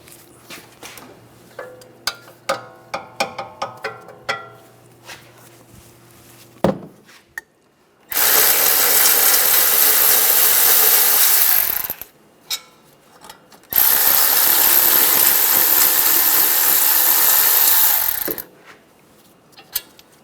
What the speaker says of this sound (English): Now we're going to take the bracket bolts off. Use a 16mm socket. Take these bolts out.